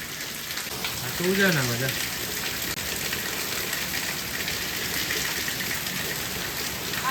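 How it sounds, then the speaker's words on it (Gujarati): Heavy rain pours down in a dense, steady roar close by, while a voice speaks briefly over it near the start. "આજે બહુ હદ બાર વરસાદ છે"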